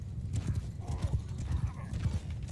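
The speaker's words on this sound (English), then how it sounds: "riding around on horses in the forest at night, not optimal" Horses' hooves in the video game Mount & Blade 2 Bannerlord, a rapid continuous clip-clop of galloping through a forest at night, loud and close, with a brief whinny and a voice talking over it.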